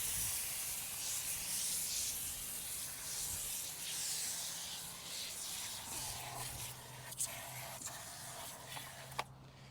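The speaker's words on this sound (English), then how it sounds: "So we're gonna spray this on the wheel first." A continuous close hiss of wheel cleaner being sprayed onto a Subaru Forester's wheel, steady for several seconds, ending with a few small clicks and taps.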